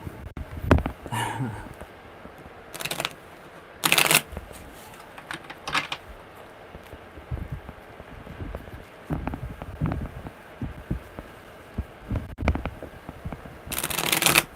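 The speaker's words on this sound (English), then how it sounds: "Okay, one more good shuffle." Tarot cards being shuffled in quick riffling bursts, several separate shuffles with pauses between, close to the mic, with faint background hiss.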